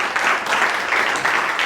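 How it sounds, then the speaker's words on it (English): An audience claps in steady, dense applause, loud and close, as a guest is welcomed at a talk event. "Give Marion a round of applause"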